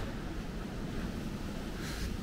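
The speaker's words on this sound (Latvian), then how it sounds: "Šodien ārā diezgan liels vējš." Strong wind blowing outdoors roars and buffets as a steady, fairly faint broadband rush with no voices.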